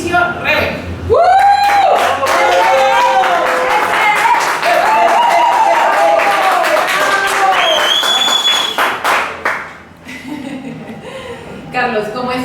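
An audience at a storytelling event claps loudly for a storyteller, with whoops, laughter and a speaking voice over the applause, which then dies away to quieter talk.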